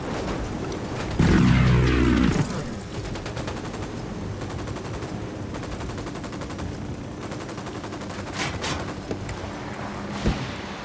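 Gunfire in Ghost Recon Wildlands, a loud explosive burst followed by sustained rapid automatic fire crackling in bursts, with a sharp shot near the end, no talk.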